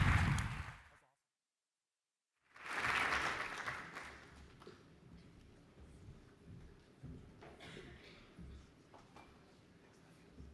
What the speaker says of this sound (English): If we can give our panelists a round of applause, please.